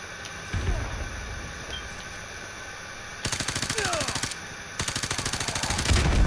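Rapid automatic gunfire from the Call of Duty Modern Warfare 2 campaign, sporadic shots first and then two dense sustained bursts of machine-gun fire, loud and close over a constant background din.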